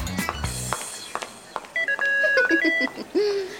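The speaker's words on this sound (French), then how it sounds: "On a intégré une alarme à nos poudriers, en fait. C'est pratique, elle sonne dès que notre front commence à briller." Cartoon-style chiming alarm from a powder compact rings with a warbling, melodic electronic tone over busy animated background sounds, loud and close, following a brief burst of clattering at the start.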